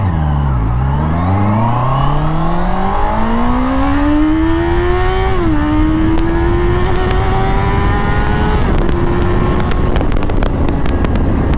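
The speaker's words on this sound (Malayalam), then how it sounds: "നിങ്ങൾ ആ കേട്ട എഞ്ചിൻ ശബ്ദം തന്നെ ഉണ്ടല്ലോ" A Honda CBR 650R motorcycle engine revs hard, close and loud, its pitch climbing steadily through the gears, with brief dips where it shifts up around the middle and again later.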